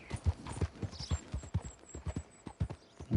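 A horse trots at night in Red Dead Redemption 2, its hooves clip-clopping in a quick, even rhythm, fairly quiet, with a faint whistle-like tone above.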